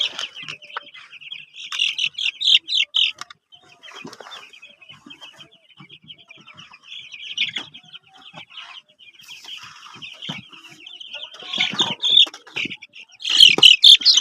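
Ten-day-old tiger chicken chicks chirp in a close, busy cluster of high peeps, coming in bursts and pauses, with occasional soft handling noise and no talking.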